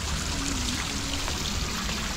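Loud, steady river water flowing close by, a dense continuous rush with no letup.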